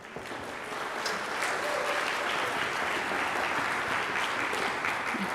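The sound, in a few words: audience applause for freshmen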